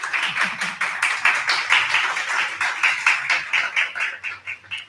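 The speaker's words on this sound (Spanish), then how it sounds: "Un aplauso, por favor." An audience at an Arab festival talk in Medellín claps steadily, a bright, even patter of many hands that holds for several seconds before thinning out near the end.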